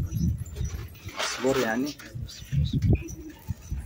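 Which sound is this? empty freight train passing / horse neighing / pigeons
pigeons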